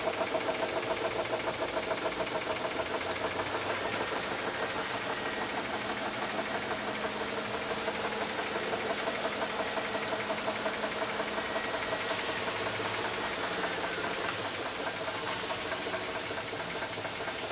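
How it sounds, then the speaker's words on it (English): A positive displacement pump feeding high-pressure misting nozzles runs steadily with a rapid, even pulsing throb, continuous and moderately loud throughout with no voices. "that's from the positive displacement pump kind of pulsating"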